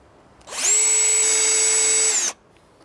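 A drill drives a pan head screw into a vinyl fence in one close, loud burst of about two seconds, a steady high whine that starts sharply and cuts off cleanly, with quiet before and after.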